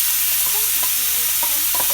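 Mushrooms fry in olive oil in a pan with a constant loud close sizzle and a few scraping stirs.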